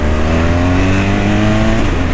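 A BMW R1200 motorcycle engine roars loud and close, holding a steady rising drone with no talk over it.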